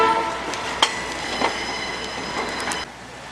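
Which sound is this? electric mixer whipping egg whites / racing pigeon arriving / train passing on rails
train passing on rails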